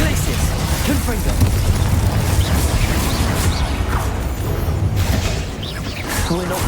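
Dense, continuous crackle and booming bursts from repeated Confringo fire-spell explosions in the wizarding game Hogwarts Legacy, loud and unbroken, with a brief dip near the end.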